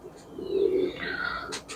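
Young blue Dumba pigeons give a soft low coo that swells mid-clip, followed by a few faint higher chirps, heard close with no talking.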